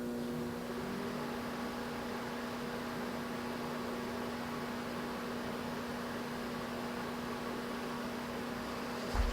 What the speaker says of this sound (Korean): 전자레인지 돌려보자.